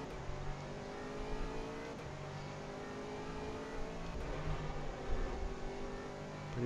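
A GT3 race car runs at full throttle around Silverstone in a racing game, its engine note a steady, sustained drone with small pitch shifts and no pauses, heard alone.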